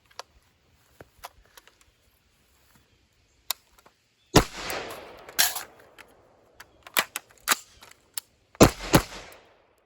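Handgun shots fired after drawing a magazine from an Idogear softshell mag pouch: sharp, loud reports in irregular bursts, mixed with small clicks and handling noises between shots, with no talking.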